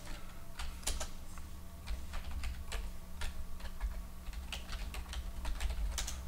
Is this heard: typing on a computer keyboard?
yes